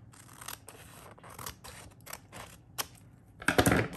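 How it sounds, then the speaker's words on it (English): Scissors trim paper for a B6 Stalogy planner setup: a series of crisp, close snips and rustles in uneven bursts, ending in a louder crunching cut, with no talking. "Let's trim down this side a bit, I think."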